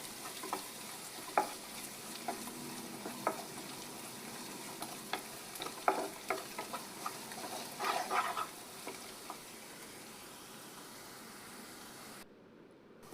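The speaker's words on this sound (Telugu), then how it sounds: "దీంట్లో కొంచెం పసుపు యాడ్ చేసేసుకోండి. యాడ్ చేసుకొని ఒకసారి మిక్స్ చేసేసుకొని" Masala fries with turmeric in a pan for egg dum biryani, a low steady sizzle running throughout, broken by scattered scrapes and knocks of a spoon stirring, fairly faint, with no voices.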